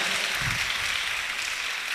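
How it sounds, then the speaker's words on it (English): Sustained applause from an audience at a national public speaking competition semi-final, a steady dense wash of many hands clapping at once, moderately loud and continuous without any talk. "A round of applause for all the contestants here"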